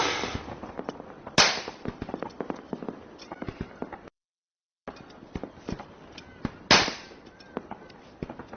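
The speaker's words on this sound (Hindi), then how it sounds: "अन्ना मुझे भी वैसे पटाखे चाहिए" Firecrackers set off during Diwali celebrations, giving repeated sharp crackling bursts with two louder, nearer bangs standing out above a steady spatter of smaller pops, broken by a brief silent gap.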